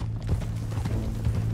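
A horse's hooves clip-clop in a steady walking rhythm in Red Dead Redemption 2, soft and low in level over a constant low hum of the game world.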